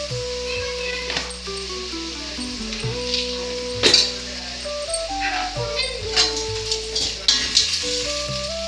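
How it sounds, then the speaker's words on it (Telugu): Onions, cumin and whole spices fry in a pan for jeera rice, giving a steady sizzle with occasional clinks and stirring scrapes, while music plays over the sizzle. "ఇవి కొంచెం ఫ్రై అవనిద్దామండి."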